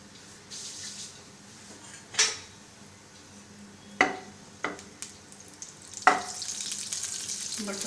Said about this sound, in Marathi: बटर थोडं मेल्ट होऊ द्यायचं आहे।